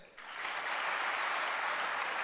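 Audience applause breaks out and holds steady, a dense, even wash of many hands clapping together in a hall at a Bangladeshi youth event.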